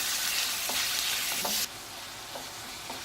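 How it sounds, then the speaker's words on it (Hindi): Minced meat keema fries in a pan with a steady, dense sizzle, loud at first and then dropping to a softer crackle, broken by a few light scrapes of stirring. "कीमा हमारा भून रहा है"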